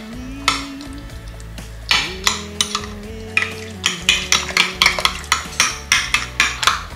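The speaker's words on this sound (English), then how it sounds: "Okay, and let's stir this around." A spoon stirs pepper- and salt-seasoned food in a pan, giving a steady run of close, clattering scrapes and taps that quicken into a regular rhythm over a low sizzling hum.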